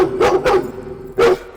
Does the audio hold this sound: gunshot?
no